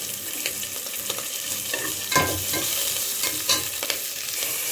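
Green chillies and onions sautéing in a pan fill the clip with a continuous close sizzle, broken up by frequent spatula scrapes and stirring clatter.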